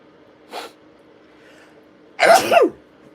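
A quick faint sniff, then a loud, sharp sneeze-like burst of breath and voice, close by with no speech around it.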